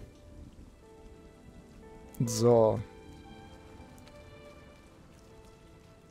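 Steady, soft rain patters throughout in the video game RIME, with one short spoken word breaking in partway through.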